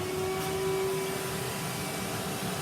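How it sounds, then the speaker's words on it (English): A bin-drop bag vacuum cleaner runs continuously while vacuuming up sweets on a table, giving a loud, steady whooshing drone with a brief tonal whine early on and no speech. "vacuum sweets, vacuum sweets, vacuum sweets"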